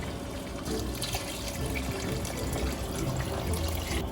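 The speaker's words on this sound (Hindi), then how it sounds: "तो पानी मैं इसमें देखें अभी भी कम है, पानी और शामिल कर रही हूँ।" Tap water runs into a pot of rice being prepared for kabab pulao, a continuous close splashing and gurgling stream that holds steady from start to finish with no voices.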